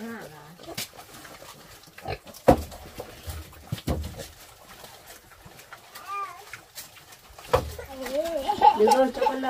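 A pig on a rural Vietnamese homestead makes short grunting calls amid other animal noises, while people talk close by.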